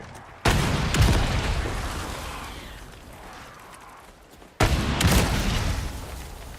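A flash grenade goes off in Resident Evil 4 Remake with two sudden loud blasts a few seconds apart, each trailing off into a long ringing wash of noise, with no voices.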